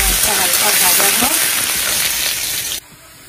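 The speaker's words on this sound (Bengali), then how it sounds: "ওই পেঁয়াজের মধ্যে এরকম সিদ্ধ করা আলুটা দিয়ে দিলাম।" Boiled potato frying with onion in oil in a home kitchen pan, a loud continuous sizzle with scraping stirs that cuts off abruptly, leaving quiet room hiss.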